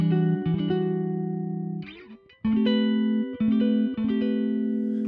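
A Bass VI six-string bass plays through an amp with the strangle switch off: a few sustained, ringing low notes with clear picked attacks, a brief pause, then more held notes, close and loud with no talking.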